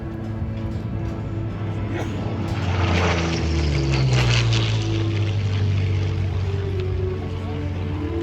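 Curtiss P-40 Warhawk propeller fighter flying at the Lake Cumberland air show, a loud droning engine roar that swells as it passes and then slides down in pitch, with talk underneath.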